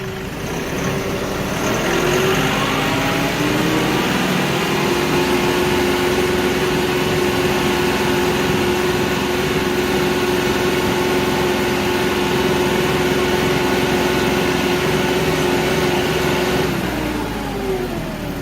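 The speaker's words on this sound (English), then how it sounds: "So I let off the hydrostat pedal, the engine's back down to a low idle." A KIOTI NX4510 HST hydrostatic tractor drives over bumpy, uneven ground, its diesel engine droning loud and steady at high RPM with a constant hum and a faint rattle before winding down near the end.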